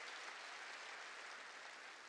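A church congregation claps together during a Korean worship service, producing a dense, steady wash of applause that holds at an even level throughout with no voices on top.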